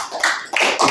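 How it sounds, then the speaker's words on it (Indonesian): Students in a classroom financial-literacy lesson break into a short burst of applause, with several uneven waves of clapping crowding the brief moment at close range and no talk over them. "tepuk tangan"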